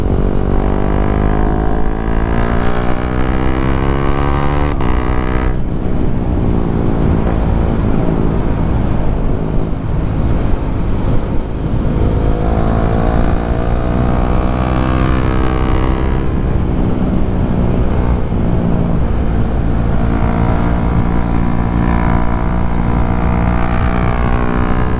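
A KTM 390 Duke's single-cylinder engine revs loud and close, rising and falling through repeated throttle blips over a sustained droning idle, with no talking.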